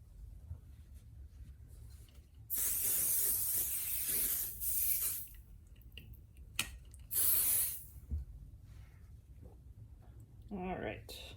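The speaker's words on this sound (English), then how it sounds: "I'm going to use my 505 spray again" Two bursts of 505 temporary fabric adhesive spray hiss for a couple of seconds each, with a shorter spritz between, amid quiet rustling and a brief voice at the end.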